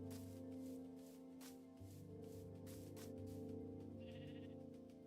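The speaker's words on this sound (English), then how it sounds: "Is that a pink sheep?" A sheep in the Minecraft video game bleats several times in short wavering calls, clear and fairly quiet, with no speech over them.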